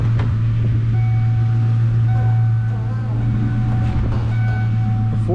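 A Ford Mustang idles at Mustang Week 2025, its engine giving a steady, close, low drone that holds evenly throughout, with faint background noise around it.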